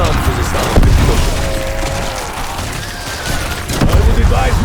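Dull in-game explosions thud twice, near the start and again near the end, over a steady clatter of combat noise during a four-player hardcore video game round.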